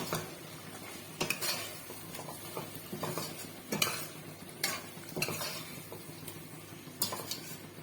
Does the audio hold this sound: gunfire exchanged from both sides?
no